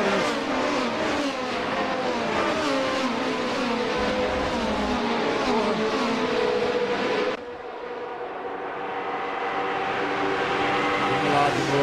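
A Formula 79 race car mod in Assetto Corsa, its engine screaming at high revs in a steady, sustained drone with shifting pitch, then dropping suddenly as the car lifts off before building again, loud and close with no talking.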